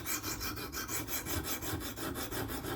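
A knife blade is worked across a whetstone to raise a burr, producing a steady rhythmic rasp of repeated strokes, roughly four or five per second, close up and continuous with no talk.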